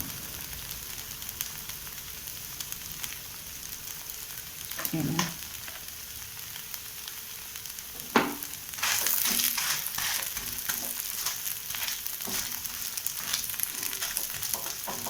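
Onion rava dosa frying in oil on a pan, a continuous low sizzle with occasional sharp clinks and scrapes, quiet at first and then a fuller crackle after a scrape, no talk.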